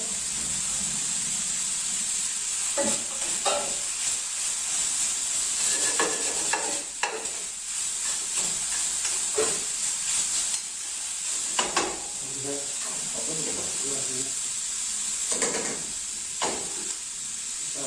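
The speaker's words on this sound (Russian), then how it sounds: "Сейчас я, значит, добавлю чеснок." Garlic sizzling in a frying pan, a continuous hiss with scattered utensil taps and scrapes, moderately loud and close.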